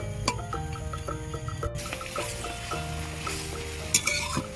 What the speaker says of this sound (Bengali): আমি কিছুক্ষণ এইভাবে মাছগুলো নাড়াচাড়া করে কষিয়ে নিয়েছি